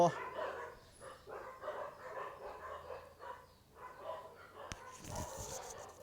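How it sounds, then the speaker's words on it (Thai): A neighbour's dog barks repeatedly at a distance, faint and intermittent beneath someone talking steadily. "หมาข้างบ้านนี่ก็คือเห่าตลอดเลยนะครับ"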